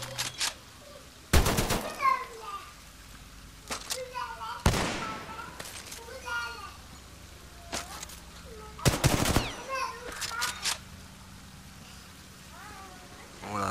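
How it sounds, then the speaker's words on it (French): A heavy machine gun fires in short loud bursts in Titanfall 2, a few separated volleys against quieter game sounds, with someone talking between them. "Ça, il me semble que c'est une mitraillette lourde, ça."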